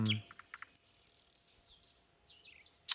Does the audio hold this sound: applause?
no